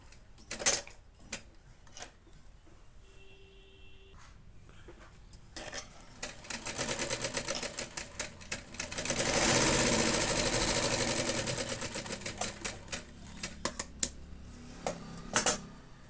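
A sewing machine runs in bursts, stitching lace onto a blouse neckline, with a steady mechanical whir that swells into a longer continuous run midway, plus light clicks and handling noise around it.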